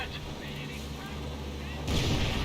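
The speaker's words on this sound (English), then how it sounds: "Now here comes the 28cm rockets now available for the Wehrmacht player." Rocket artillery fire from a 28cm Wehrmacht rocket launcher in the World War II strategy game Company of Heroes, a steady rumbling roar that swells into a louder, harsher burst near the end.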